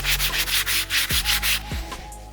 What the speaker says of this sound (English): I'm gonna give it a good scrub using the soft bristle brush